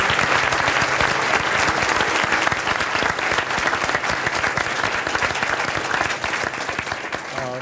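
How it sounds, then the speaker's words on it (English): Steady, dense applause from a conference audience at a philanthropy keynote event, loud and sustained for several seconds with many hands clapping at once and no voices over it. "a round of applause and appreciation for Sonal Shah."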